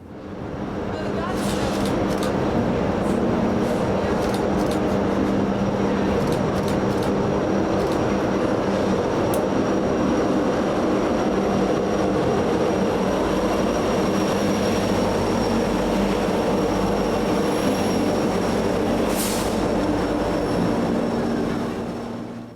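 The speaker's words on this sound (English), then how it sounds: "a westbound UP empty grain train came by with a Thundercab Ace in the lead" A westbound Union Pacific empty grain train led by a Thundercab Ace locomotive rolls past near Kansas City Union Station, a continuous loud rumble with wheel clatter and squeals that lasts throughout.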